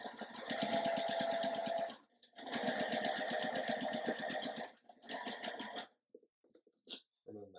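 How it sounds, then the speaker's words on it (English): A sewing machine stitches straight across a quilt row in two steady, rapid runs with a short pause between, close and even, then stops before light handling noises. "I'm going to go ahead and sew straight across"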